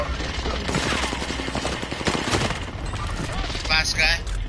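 Enemy gunfire in a shooter video game: dense bursts of rapid automatic shots rattle continuously, fairly loud and close, mixed with game sounds.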